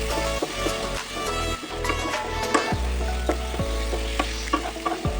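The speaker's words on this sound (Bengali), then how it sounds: "দিয়ে ভালো করে এটাকে কষাবো এখন" Tomato and chilli powder curry is sautéed in a pan, with continuous sizzling broken by spoon scrapes and clinks against the metal. A faint tonal hum runs beneath it throughout.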